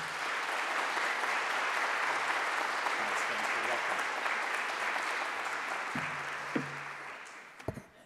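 Sustained audience applause at a public policy lecture welcoming a guest speaker, steady and fairly loud for several seconds before tapering off, with a few scattered claps and knocks near the end.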